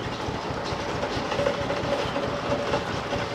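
A narrowboat hull crunches through ice on a canal, a steady, fairly faint grinding and crackling texture with a low engine hum underneath and no voices.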